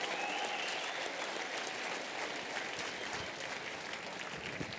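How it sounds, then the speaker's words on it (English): Audience applause fills a packed room at a New York apologetics debate, dense, steady clapping holding at an even level for the whole stretch with a faint tone briefly showing early on. "So give yourselves a big round of applause."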